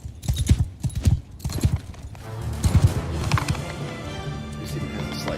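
Horse hooves clop in a video game battle with cavalry, a quick rhythmic run of loud, near hoofbeats that thickens into a dense rumble of many horses moving together.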